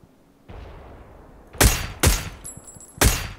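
Gunfire in the battle royale game PUBG: three loud, sharp shots spaced about half a second to a second apart, each with a ringing tail, over a faint low background.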